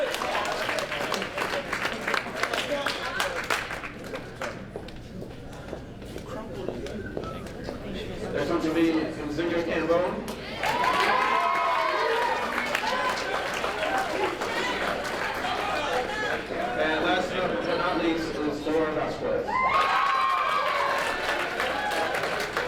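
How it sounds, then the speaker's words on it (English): Crowd applause at an indoor awards dinner rises and falls across the stretch, swelling twice into fuller clapping with some cheering, while a voice speaks over a public address. "one more round of applause for our 2010 cheerleaders."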